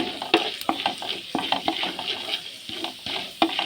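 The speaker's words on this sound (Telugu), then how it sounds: "నూనె కాగిందండి చూడండి దానిలో మినపప్పు వేసాము మినపప్పు పెట్టాను" Urad dal frying in hot oil while being stirred, a close, steady sizzle broken by repeated clinks and scrapes of a utensil against the pan, with no one talking.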